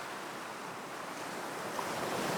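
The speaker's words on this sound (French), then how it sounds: "Les vagues continuent leur va-et-vient" Ocean waves wash onto a sandy shore in a steady, broad hiss of surf that stays even and close throughout, with no voices.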